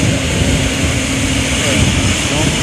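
A plane at Ottawa airport produces a steady, loud, broadband engine roar that fills the whole stretch without letting up, with people talking faintly underneath.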